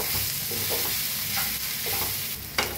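Mashed potato filling with salt and coriander being stirred in a hot pan for vada pav, with steady sizzling and soft rhythmic scraping strokes, close and continuous.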